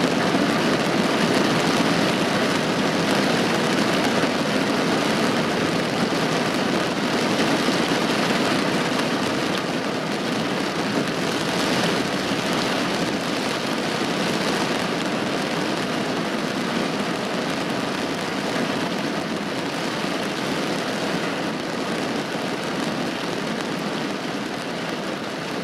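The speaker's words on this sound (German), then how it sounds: "Aber es regnet wie noch was" Heavy rain pours steadily during a thunderstorm, a dense, even roar that holds at the same loudness for the whole stretch, with no voices.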